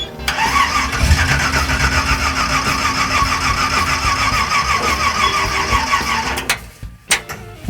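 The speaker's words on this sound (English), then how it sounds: "Remarkably, the engine doesn't want to run." A 1974 Chevrolet Malibu engine cranks steadily and loudly for about six seconds with a rapid rhythmic starter chug, never catching, then cuts off followed by a couple of brief clunks.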